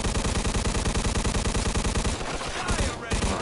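Rapid automatic gunfire in a shooting video game, a continuous loud stream of evenly spaced shots with a brief dip near the end before resuming.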